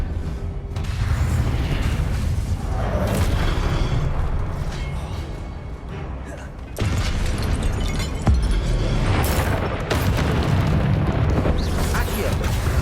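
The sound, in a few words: Convulso spell blast in Hogwarts Legacy video game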